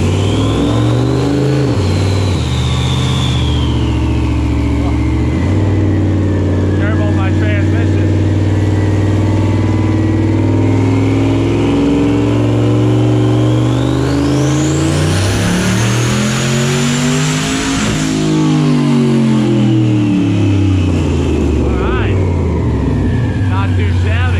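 A turbocharged Corvette with a stock truck engine revs hard under load on a dyno, pitch climbing through the gears to a loud high-rpm scream, then falling back as it winds down.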